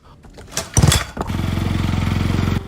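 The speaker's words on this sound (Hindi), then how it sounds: "अपनी बाइक पर उसे बिठाकर उसकी मंजिल की ओर बढ़ चला" A motorcycle engine sputters to life and then runs at a steady, throbbing idle, close and loud, used as a sound effect in a Hindi horror story.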